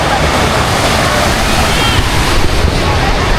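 Ocean waves wash steadily onto the shore at Pundakit Beach, a continuous loud roar of surf mixed with wind buffeting the microphone, with no pause across the short stretch.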